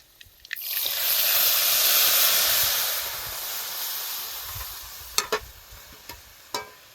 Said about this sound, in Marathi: आपला लसूण चांगला लाल झालाय आता त्यात आपण ही भाजी टाकून देऊ